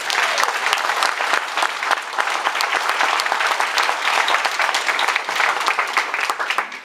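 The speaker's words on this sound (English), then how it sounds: "Let's give another round of applause for our speakers," A graduation audience at the ECU English MA ceremony applauds its speakers, producing a full, even roar of clapping from many people that holds steady throughout.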